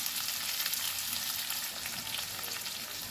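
Bell peppers soften in a hot frying pan for a buckwheat and spinach-stem dish, a loud, continuous close sizzle with no talking.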